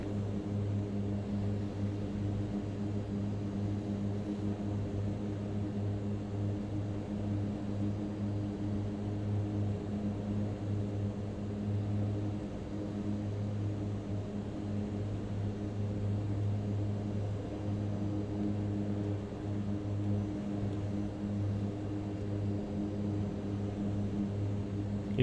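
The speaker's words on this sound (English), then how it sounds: "It's not a slow aircraft." Steady, loud drone of a Mitsubishi MU-2 twin turboprop aircraft in flight, heard from inside the cabin as a constant low hum with tonal engine bands, unbroken for the whole stretch with no talking.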